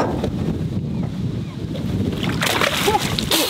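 A wild five-pound coho salmon splashes hard against the water as it is released from a boat, a close, wet burst over steady wind and boat noise, with a voice talking nearby.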